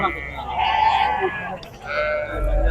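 A goat bleats at a crowded livestock market where goats and dumba sheep are sold before Eid, its calls drawn out and mixed with steady voices of traders talking nearby.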